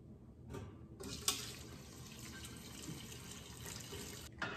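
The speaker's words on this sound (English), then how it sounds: "now I'm just going to drain this through some cheesecloth and a strainer before we can it" Broth pours through cheesecloth and a strainer in a kitchen, a steady close rush of trickling liquid with a small splash near the start and no talk.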